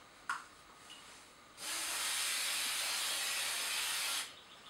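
Fenwick's disc brake cleaner sprays onto contaminated brake rotors in one steady, loud hiss lasting about two and a half seconds, close up, after a brief click.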